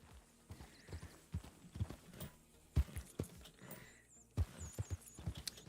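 A horse gallops in the Western video game Red Dead Redemption 2, its hooves striking in quick, uneven thuds that come in bursts over a faint outdoor background, with no voices.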